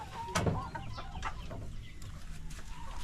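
Egg-laying hens cluck in a farmyard coop, with a louder burst of clucking early on and then steady, moderate clucking and rustling throughout, and no talking.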